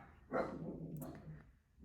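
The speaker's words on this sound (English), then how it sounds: "Now they're just barking for the sake of barking" One dog gives a single short muffled bark, faint and somewhat distant, with quiet room sound around it.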